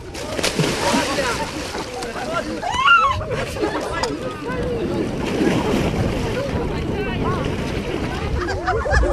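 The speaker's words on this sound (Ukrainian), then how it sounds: "Одна за одною шубовсують у крижану воду." Splashing and churning water as girls plunge one after another into an icy lake or river during an Epiphany winter bathing celebration, with wind buffeting the microphone and excited voices and shouts throughout.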